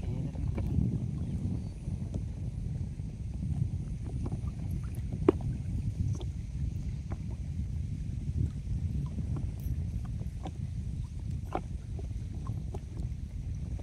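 Constant low rumble of wind buffeting the microphone outdoors while fishing, with scattered faint clicks and knocks throughout.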